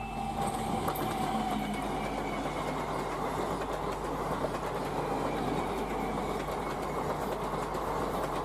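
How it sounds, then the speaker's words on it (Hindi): An Indian high-speed EMU suburban train runs steadily past, its rolling rumble and rail clatter continuous and loud throughout, with faint squealing tones of wheels on track above the dense roar. "ये वो ट्रेनें हैं जो बड़े शहरों से मुज़ाफ़ाती इलाकों को, यानी आसपास के छोटे शहरों या कस्बों को जोड़ती हैं"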